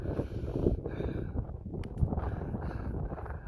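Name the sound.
wind blowing sand on dunes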